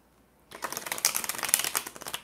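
A deck of tarot cards is shuffled up close. A brisk, rapid riffling clatter starts after a moment of silence and continues to the end. No one speaks.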